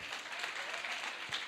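A church congregation breaks into applause, a dense, steady wash of many hands clapping that fills the room for the whole moment, with no voices standing out.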